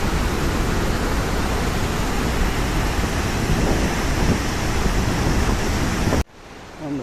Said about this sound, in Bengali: এই দেখুন হুড্রু জলপ্রপাত, কি সাংঘাতিক আওয়াজ, গর্জনের মতন আসছে আমাদের দিকে